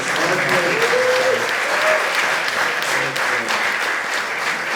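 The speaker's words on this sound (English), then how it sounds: "one more applause for the most supportive chat team" An audience at a Bitcoin conference event in Riga breaks into steady, loud applause that holds through the whole moment, with voices faintly audible beneath the clapping.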